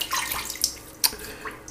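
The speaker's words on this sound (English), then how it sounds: "I'm going to put a little bit of water in the bowl." Water is poured into a shaving bowl for lathering soap, giving short splashing trickles that come in brief bursts, close and moderately quiet.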